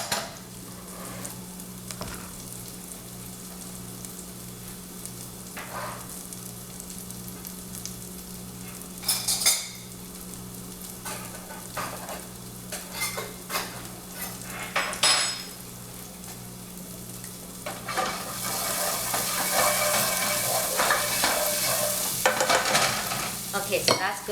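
Curry ingredients, including thyme and onion, sizzle and fry in a pot while a utensil stirs and scrapes now and then, and the frying swells into a louder, fuller hiss near the end.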